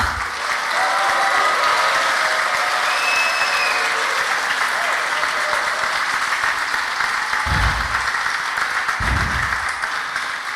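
A crowd at a leather show gives loud, steady applause that fills the room without a break, with a couple of low thumps near the end.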